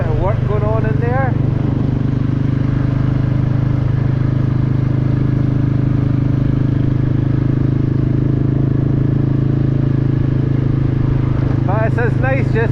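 A Royal Enfield Classic 350 cruises in fourth gear along the A198 coast road, its steady low engine drone running throughout under wind rumble, with a voice talking briefly at the start and again near the end.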